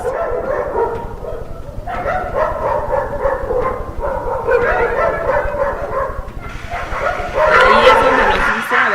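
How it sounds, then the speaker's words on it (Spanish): Several dogs barking and yipping in a replayed audio recording, repeated barks in bursts throughout, moderately loud with some whimpering mixed in. "se escucha entre los ladridos de los perros"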